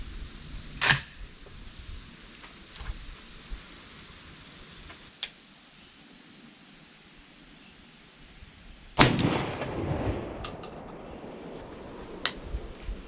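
A 20 gauge shotgun loaded with number 4 bismuth shot fires outdoors, a single sharp, loud blast near the end following a quieter click earlier.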